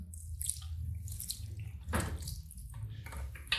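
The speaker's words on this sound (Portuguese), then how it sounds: "Vou primeiramente enxaguar esse cabelo, tá vendo?" Running water rinsing hair at a salon wash basin, a steady close splashing stream with low rumble throughout, no speech.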